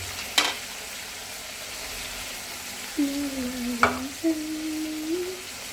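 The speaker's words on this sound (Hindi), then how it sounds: "चिकन को मैंने फ्राई कर लिया है, कलर बहुत अच्छा आ गया है।" Chicken fries in a pan for bhindi chicken, a faint low sizzle with a couple of sharp utensil knocks and drawn-out squeaky scraping strokes as it is stirred.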